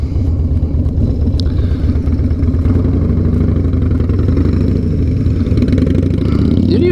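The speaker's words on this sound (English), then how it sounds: "That thing's got some exhaust." A Harley-Davidson motorcycle engine rumbles loudly and steadily up close, its low exhaust throb continuous throughout, with a faint clatter over it.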